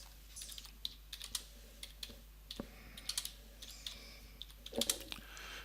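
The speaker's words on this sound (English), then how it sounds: "I can type in dead plus live on wind" Fingers type on a computer keyboard while data is entered into structural analysis software, with quiet, irregular key clicks and taps heard close up throughout, none of them loud.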